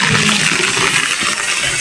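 Floodwater after heavy rain rushes steadily past a submerged car, a loud, continuous broadband gushing and churning close by, with no voices.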